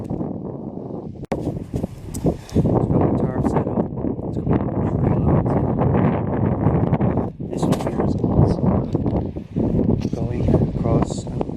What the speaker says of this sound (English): The wind keeps coming and going.